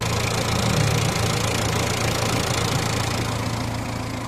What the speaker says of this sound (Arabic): كما سمعتوا الاخوان الصوت ديال الموتور